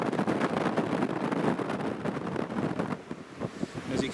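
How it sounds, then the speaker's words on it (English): Strong storm wind buffets the microphone at Newcastle International Airport, a loud, gusty roar that rises and falls continuously with no other clear sounds. "As you can hear, folks, it is very"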